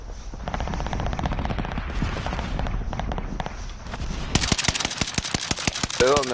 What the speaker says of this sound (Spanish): Aquí, aquí, me están disparando aquí, bro.